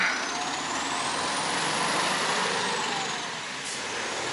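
Steady, loud road noise of vehicles rolling past close by on a street in Kaliningrad at sunset, a broad wash of tire and engine hiss with a faint air-brake whine, no talking.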